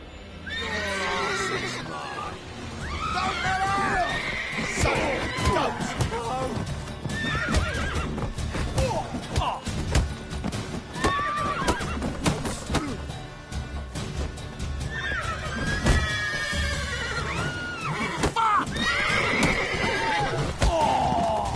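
Horses in the video game The Witcher 3 neigh and whinny loudly several times over continuous clip-clopping hooves, with game voices speaking at points.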